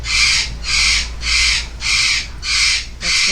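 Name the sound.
pet bird squawking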